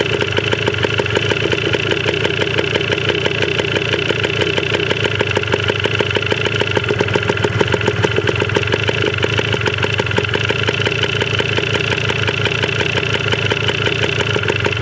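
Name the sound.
Yamaha DT 125 enduro dirt bike engine running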